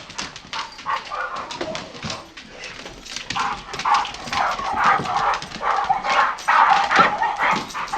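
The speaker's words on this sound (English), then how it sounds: "I want you to say hi to these dogs for me." Two pit bulls bark, yip and whimper excitedly in rapid, continuous bursts, loud and close, with barely a pause across the stretch.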